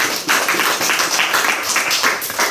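Congregation applauding during a church service, a steady wash of many hands clapping at once, sustained and fairly loud throughout with no break.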